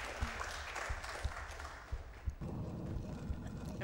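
Audience applause at a Summer Games Done Quick 2018 speedrun event for a Tomb Raider run, a steady crowd clapping at moderate distance with a few sharper individual claps, continuing throughout.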